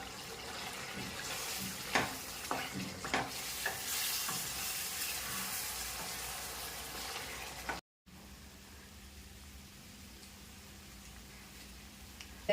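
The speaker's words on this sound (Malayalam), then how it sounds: "നമുക്കൊന്ന് തുറന്ന് ഇളക്കി കൊടുക്കാം." Beef sizzles and crackles in a hot pan while a utensil scrapes and stirs, with a few sharp clanks, then a quieter steady sizzle continues.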